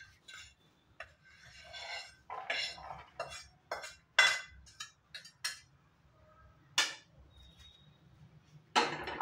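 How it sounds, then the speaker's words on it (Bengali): A kadai (wok) set back down on a home kitchen stove while making carrot laddu gives a few sharp metallic clinks and clanks, close and fairly loud over a low hum, with quieter rattling in between. "আবার কড়াইটা বসিয়ে দিলাম।"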